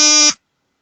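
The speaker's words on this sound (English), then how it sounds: "Some notification." A short electronic notification alert sounds once: a steady, bright buzzing tone lasting about a third of a second, then cutting off into silence.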